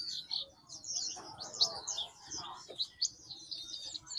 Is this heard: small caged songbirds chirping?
yes